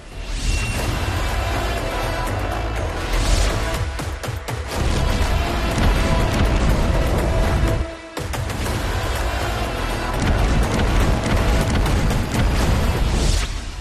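Loud explosions in Kyiv during the Russia-Ukraine war, heavy booming blasts and broad rumbling roar with one brief drop to near-silence midway before the din resumes.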